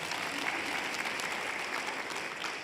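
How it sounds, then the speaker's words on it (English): Audience applause at a faith storytelling event, a steady wash of many hands clapping at moderate distance, with no break throughout. "yeah, she needs a clap."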